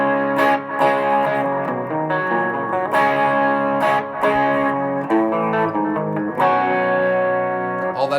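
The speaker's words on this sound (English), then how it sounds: "I would suggest you just play it with dirty, a little bit dirty, but not full distortion" Electric guitar with a slightly dirty, not fully distorted tone strikes ringing chords and arpeggiated notes, close and loud, with an effects-unit shimmer and sustain and brief gaps between strums.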